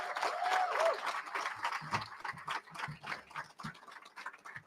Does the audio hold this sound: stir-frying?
no